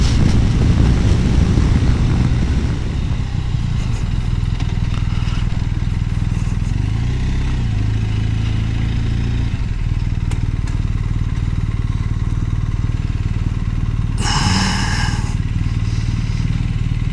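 A BMW R1250RS sport touring motorcycle rides along with a steady, loud engine drone and rushing wind throughout, with a brief brighter burst of noise near the end.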